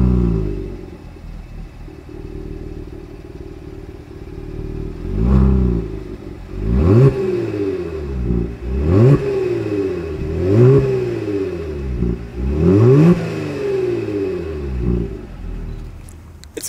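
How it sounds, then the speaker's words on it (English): A 2020 Genesis G70 exhaust idles with a low rumble, then revs up sharply several times in a row, each throttle blip rising and falling, loud and close. "As always, here is that exhaust clip."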